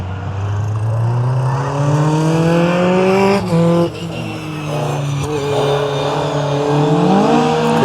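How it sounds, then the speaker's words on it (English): A Ford Escort drifts around a wet, soggy Pembrey Circuit, its engine loud and close with sustained high revs, rising and falling pitch through the slide, and a brief lift before powering on again. "Great weather for drifting, your Escort."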